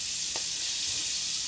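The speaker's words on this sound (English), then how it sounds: "Searing off your shrimp. I'm going to cook them off till they're seared, till they're almost cooked." Shrimp and garlic sear in a hot pan, giving a steady, close hiss of frying throughout, with a brief clink near the start.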